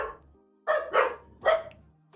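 Dogs bark three times, in short sharp bursts with brief gaps between them. The barks are fairly close and stand alone, with no talk.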